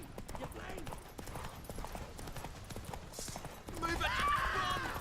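Distinct, rhythmic hoof strikes from the horse Roach galloping in Witcher 3, fairly close, with a voice calling out and game noise swelling near the end.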